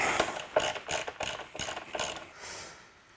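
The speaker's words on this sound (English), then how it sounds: "Let's pop that bolt out of there and we'll have a look." Ratchet wrench backing a bolt out while fitting Komine heated grips on a motorcycle: six or seven quick, close clicking bursts in a steady rhythm, trailing into a softer final turn, no talk.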